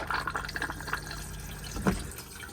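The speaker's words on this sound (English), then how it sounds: "After you've used the toilet, you'd give it a good flush." Water rushes and trickles into the cassette toilet bowl of an Autotrail V-Line 363SE motorhome during a flush, a close, gurgling splash with a brief stronger gush near the end.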